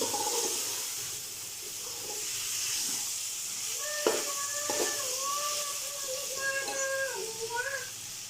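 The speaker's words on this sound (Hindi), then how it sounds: "दो से 3 मिनट इसको अच्छे से भून लेंगे" Vegetable pulao ingredients fry in a pan with a steady, close sizzle and hiss. A few higher tonal squeaks come in partway through, alongside light stirring.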